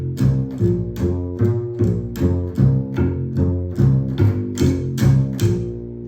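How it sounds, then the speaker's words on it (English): Four bars of walking bass line, one different note on every beat in a steady pulse, with chords sounding along with it, close and full. "That's a nice walking bass line."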